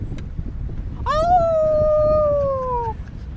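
A person's voice imitates a howler monkey call, producing one sustained, rising-then-falling howl lasting about two seconds, clear and close against a low background hum.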